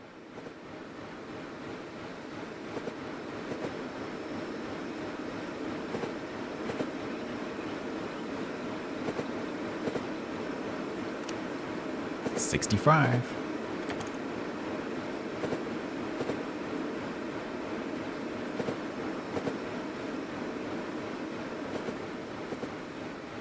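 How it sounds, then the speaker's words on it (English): A noisy train rumbles along in a steady, moderately loud roar, with one brief louder surge midway before settling back to the same even drone. "zooming back into the noisy train again"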